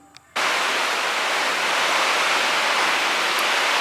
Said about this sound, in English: we're getting a little rain here.